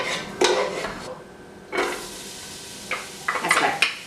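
Vegetables hit a hot pan for smoky chickpea soup, with bursts of frying hiss and sizzle alongside clattering stirring of pots and utensils, close and moderately loud, with a quiet gap between the sizzling bursts.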